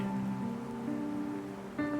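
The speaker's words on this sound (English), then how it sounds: "Watching the rain outside made him feel calmer." Rain falls steadily outside balcony doors in the game The Inn Between, a soft continuous hiss that sits beneath gentle sustained music tones.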